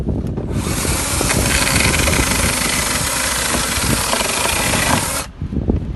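Worcraft CGC-S20LiA cordless battery chainsaw cutting through a wooden board, producing a loud, steady buzzing whine under load that runs continuously for several seconds before cutting off abruptly, close by.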